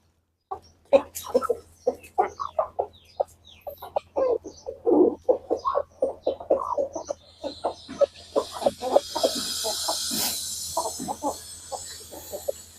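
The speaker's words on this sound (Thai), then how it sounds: "เดี๋ยวเฮามาให้อาหารไก่กัน" A flock of about eleven chickens clucks in quick, busy bursts while being fed pellets, close and continuous, with a rising rustling wash of scattering feed later on.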